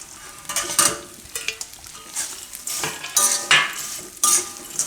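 Cashews, almonds and edible gum roasting in a pan for a Gujarati cracked-wheat sweet, with repeated scraping strokes of a spoon and a light sizzle, close and fairly loud.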